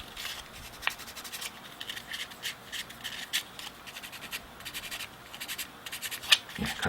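Sandpaper rubbing over the body of a nano fishing float, a soft dry scratching in short repeated strokes, close and quiet, with a brief sharper rasp near the end.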